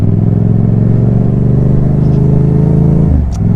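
A bus engine rumbles loudly and steadily on the road, close by, with a deep droning tone that shifts near the end as the vehicle moves off.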